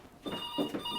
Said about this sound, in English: Oh, the telephone. Somebody's calling.